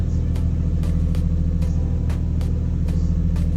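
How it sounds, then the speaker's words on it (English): A Nissan Skyline R33 engine idling at about 800 RPM, a loud, close, deep rumble with an even pulsing beat and sharp periodic ticks, steady for the whole stretch. "So car is now running"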